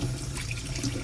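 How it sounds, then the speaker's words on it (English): Tap water runs steadily over pipe cleaner tools being rinsed during a frog tank cleaning, a close, continuous splashing rush at a sink with no voices. "So you just rinse these thoroughly."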